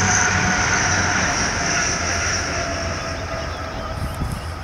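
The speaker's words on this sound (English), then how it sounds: "There's a train." A train rumbles past near a farm pond, a loud steady roar with wheel noise and a sustained whine that slowly eases off, close by and with no talking.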